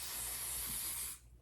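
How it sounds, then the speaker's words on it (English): Even Lace spray misted around the lace perimeter of a wig during install, a single close, steady hissing spray burst lasting about a second before cutting off. "I'm gonna use the Even Lace spray just to spray the perimeter of my hair"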